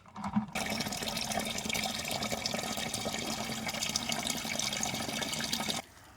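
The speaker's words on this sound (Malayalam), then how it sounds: "ഇതിൻ്റെ അഞ്ചിരട്ടി വെള്ളമാണ് നമ്മൾ ഇതിൻ്റെ അകത്തോട്ട് ഒഴിച്ചു കൊടുക്കാനായിട്ട് പോകുന്നത്" Water pours steadily into a container for diluting a rose-plant fertilizer, a dense continuous splashing rush lasting about five seconds before cutting off abruptly.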